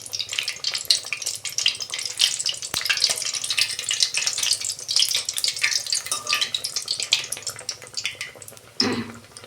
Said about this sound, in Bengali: এক হাতা করে দিয়ে আমি মালপোয়াগুলো ভেজে নেব